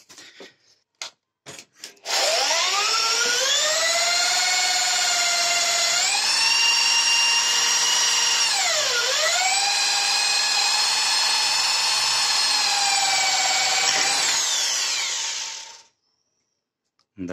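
Drill boring a hole in tool steel, a steady high-pitched whine that starts abruptly, holds for about fourteen seconds with brief pitch dips as the load changes, then cuts off, preceded by a few sharp knocks.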